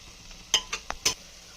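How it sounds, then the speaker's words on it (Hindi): A spoon stirs a sabzi of cluster beans, apple gourd, tomato and raw mango in a pan, giving four quick scraping clinks over a low background hiss, close by and with no talking. "अब थोड़ी देर हम इस तरीके से इसमें चम्मच घुमाएंगे।"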